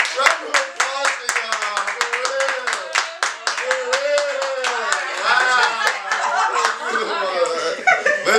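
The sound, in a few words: applause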